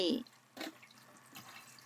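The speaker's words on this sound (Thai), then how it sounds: "ล้างไปก็ ซาวไปบีบน้ำออกค่ะ" Wild yam (kloi) being washed and squeezed by hand in water, with faint, scattered sloshes and drips in a quiet setting after a brief voice at the start.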